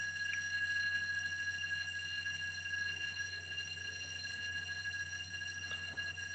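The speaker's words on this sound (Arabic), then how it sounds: "في جرس الانذار." A building's alarm ringing continuously in the background, a steady sustained electronic tone without breaks, faint and even throughout.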